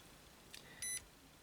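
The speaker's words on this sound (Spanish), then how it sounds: "en esta escala se puede usar el buzzer, o sea el zumbador" A UNI-T 61-E multimeter on its continuity setting gives one short, clean electronic beep lasting about a fifth of a second, alone against a faint background hiss.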